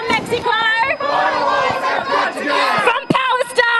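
A protest crowd in Melbourne cheers, shouts and claps in solidarity, close and loud, with sharp bursts of clapping and overlapping voices.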